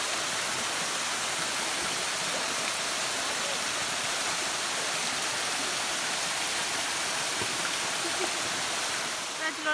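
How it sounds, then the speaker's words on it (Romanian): Steady broadband rush of the Beusnita waterfall in the Nera Gorges, a continuous even wash of falling water, fairly faint and unbroken throughout. "Dragilor, am ajuns la cascada Brucnița."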